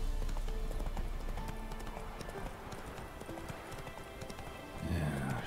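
Geralt's horse gallops in The Witcher 3: Wild Hunt, quick rhythmic hoofbeats sounding close and continuous, with a short whinny and a louder thud near the end.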